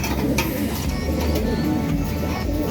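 Racing pigeons in a loft coo in a continuous low, soft murmur, several birds at once, with faint rustles and clicks in the background.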